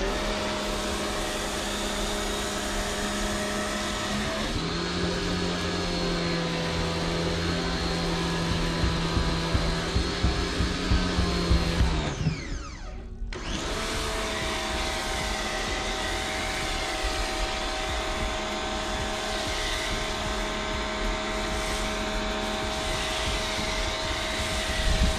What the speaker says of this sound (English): and then we'll go and spray the car down.